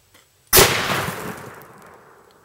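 A single loud .444 rifle shot fired at a pumpkin outdoors, a sharp close blast that decays over about two seconds with a long rolling tail and no talking.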